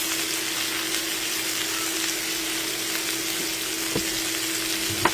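Cabbage hitting a hot pan of fried potatoes sizzles in a steady, close crackle with a faint tonal hum and a couple of small knocks, no talking.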